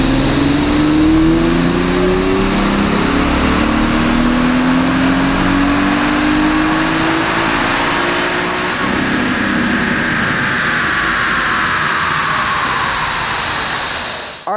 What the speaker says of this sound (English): we dynoed the 370Z with the Stillen Supercharger kit